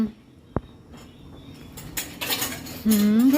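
Metal clatter from a cooking pot and utensils being handled on a stove while green curry chicken cooks, with a sharp clank early and scattered knocks and scrapes. A louder hiss or rumble builds toward the end.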